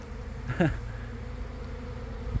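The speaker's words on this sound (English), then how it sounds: "And that's all the bees flying." Wild bees buzz around their hive in a low, steady drone throughout, with one louder insect passing close by early on.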